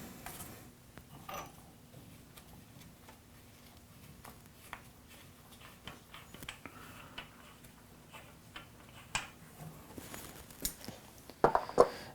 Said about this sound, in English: Gently put your channel locks on the filter plug and loosen.